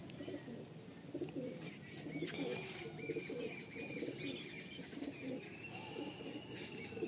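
Faint, low coos from pigeons in a pigeon loft repeat through the background, joined by occasional higher chirps and soft rustling.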